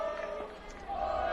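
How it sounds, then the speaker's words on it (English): Crowd noise at a 4A high school baseball tournament game, Mountain Crest vs. Snow Canyon: a faint, distant, steady murmur and roar from the stands swells slightly toward the end. "Warrior crowd kind of getting loud now again."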